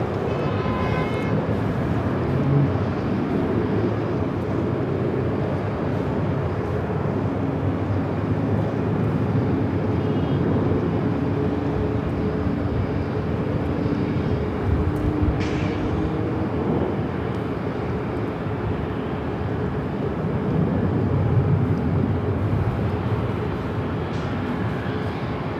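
An airliner taking off from runway 24 left at LAX, producing a loud, steady broadband roar that holds for the whole stretch without a break and with no voices.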